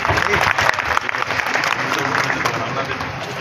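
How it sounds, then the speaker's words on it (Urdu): An audience at a religious gathering claps loudly as a speaker is invited to the dais, the applause strongest at first and then easing into a lighter, steady patter with voices mixed in. "بہت زیادہ تالیاں ہو جائیں بھائی."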